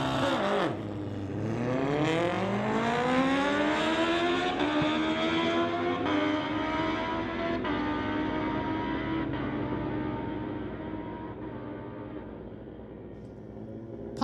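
A 2005 Suzuki Gixxer and a 2012 Kawasaki in a street-legal drag race, engines screaming loud and close as they launch, then climbing in pitch through the run with gear changes before fading into the distance.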